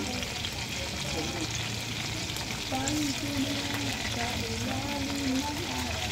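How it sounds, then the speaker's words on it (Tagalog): Banana blossom patties frying in hot oil, a dense continuous sizzle close up with light stirring and faint voices talking in the background. "Pwede na siya iprito."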